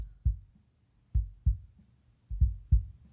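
Boomy kick drum heard through the outside kick microphone, several deep low thumps in an uneven groove with soft decays between hits, no other instruments or voices.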